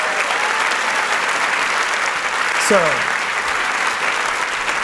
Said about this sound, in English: Andy and Andy deserve a round of applause right now